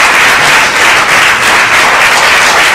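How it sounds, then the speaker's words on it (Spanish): Dense audience applause welcoming a representative of the Bilbao city council at a 25th anniversary ceremony for Pausoka, a steady wash of many hands clapping throughout with no voices. "Le recibimos con un fuerte aplauso."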